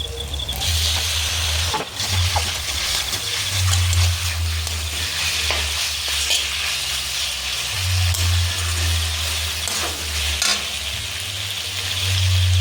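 Boiled chicken pieces with meat masala frying in a pan, a loud steady sizzle with low rumbling bursts and occasional scraping stirs throughout.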